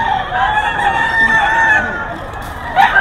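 A young rooster (stag) crows one long, loud cock-a-doodle-doo close by, the drawn-out call sustained for several seconds before a sharp new note breaks in at the end.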